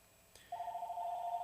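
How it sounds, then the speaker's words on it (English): A telephone rings in a radio studio during a call-in swap show, giving a steady electronic trill after a brief click, clear and moderately loud over a quiet background. "All right, phone's ringing."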